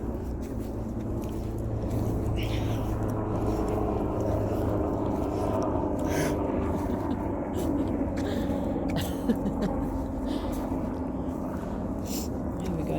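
Helicopters pass overhead at night above a historic cemetery in Australia, a distant, continuous low drone with a gentle rise and fall, and a few nearby soft knocks and rustles.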